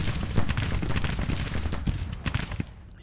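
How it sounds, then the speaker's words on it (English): Massed musket volleys and artillery fire from a Civil War battle in Grand Tactician: the Civil War, as the 93rd New York takes fire from three regiments at once, a dense, continuous crackle of overlapping gunshots with sharper reports standing out. "93rd New York has three regiments firing on him at once"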